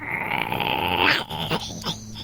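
A person imitating a dog with a drawn-out whiny growl that breaks into a short gruff bark-like sound, close and alone.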